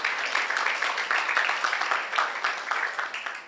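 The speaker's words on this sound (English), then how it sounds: "We give her another round of applause" Steady applause from a conference audience for a presenter at a scientific meeting in a beach resort hall, dense continuous clapping at an even level, moderately loud, with no voices above it.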